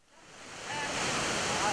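Rushing water of Girlevik Waterfall, a steady broadband roar that swells over the first second and then holds loud and continuous, with no voices.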